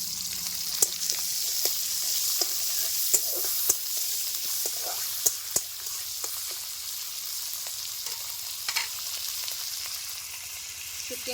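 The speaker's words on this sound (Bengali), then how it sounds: "রসুনটা ভাজা ভাজা হয়ে আসছে, দিয়ে দিচ্ছি শুটকি মাছ।" Dried fish and chopped garlic frying in hot mustard oil, with a continuous bright sizzle and occasional sharp pops and scrapes of stirring, close and steady without any talk.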